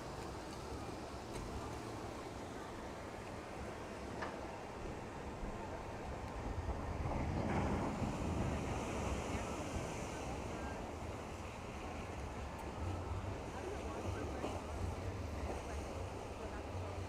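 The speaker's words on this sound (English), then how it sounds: "Certainly some water coming over the flumes, even with no weight in the log." Water rushing and splashing over the channels of a log flume ride at Magic Kingdom, an empty log passing through; a steady broad wash with a louder surge midway, outdoors with wind and faint crowd noise.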